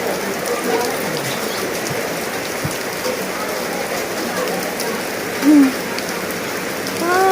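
Heavy rain pouring down at an outdoor rice-giving event, a loud dense hiss of drops on surfaces, steady and close, with a few faint voices and small knocks briefly breaking through.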